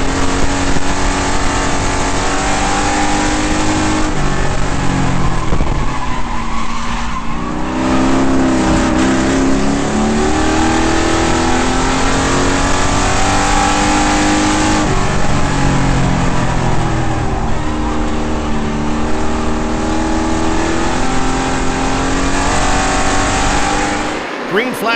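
Race cars roaring at Langley Speedway during a restart, loud sustained engine drone with shifting revs and cars passing close, continuous throughout with a commentator talking over it.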